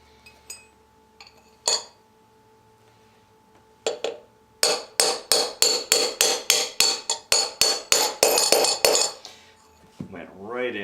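Sharp metallic hammer blows driving a bearing into the rear wheel of a 1971 BSA A65 Lightning motorcycle, a few scattered strikes then a rapid steady run of a dozen or more ringing hits, close and loud.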